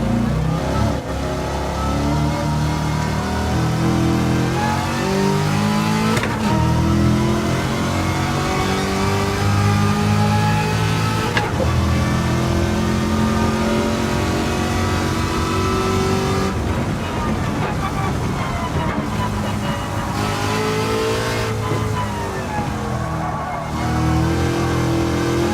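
A hard-to-drive car's engine revs continuously in Gran Turismo 7 played in VR, a steady droning whine rising and falling in pitch with gear changes, loud throughout with faint speech mixed in.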